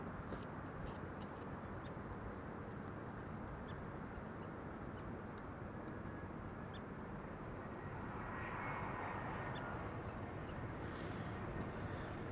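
An Air Arabia Maroc airliner lands at Amsterdam Schiphol, its engines a continuous broad roar that swells slightly near the end, heard from a distance outdoors with no talking.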